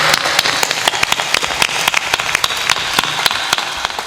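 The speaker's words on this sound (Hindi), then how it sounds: "ताली बजाओ।" An audience at a spiritual discourse by Sant Shri Asang Dev claps hands in a steady, rhythmic beat, sharp repeated claps ringing out close and loud with no talk over them.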